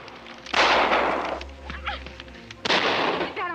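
Pistol shots in a 1952 war film ring out as two loud sharp bursts with ringing decay, separated by a quieter stretch of scuffling.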